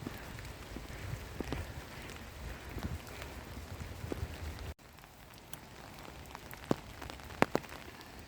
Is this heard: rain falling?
yes